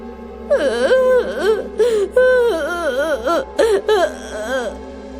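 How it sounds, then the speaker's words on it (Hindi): A woman cries loudly in wavering, sobbing wails and whimpers, broken into several anguished bursts over a few seconds, close and alone against a low background hum, used as a horror story sound effect. "आधी रात को एक खातून की तेजी से रोने की आवाज सुनाई देती है।"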